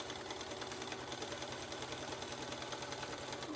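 A sewing machine runs fast and steady, stitching along the very edge of a duster coat collar; a close, rapid mechanical chatter with a regular pulsing beat, held continuously without pause.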